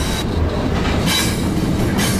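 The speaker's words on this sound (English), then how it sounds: "We've hitchhiked on the train back to where the caminantes are." Mexican migrant freight train known as The Beast, heard while riding aboard: a loud, steady roar of rolling wagons and rumbling wheels with rhythmic clatter, close and continuous.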